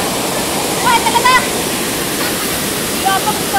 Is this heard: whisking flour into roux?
no